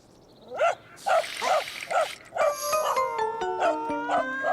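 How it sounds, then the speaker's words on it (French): A cartoon dog barks five times in a quick series, loud and close, followed by bright chiming musical tones. "Caillou avait un peu peur du chien, mais Gilbert, lui, avait vraiment très peur."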